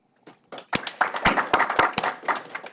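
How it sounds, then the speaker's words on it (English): Audience applause at a startup pitch event as the next presenting team is introduced: a short, close burst of clapping that swells quickly and carries to the end, with a few sharp individual claps standing out. "Applause."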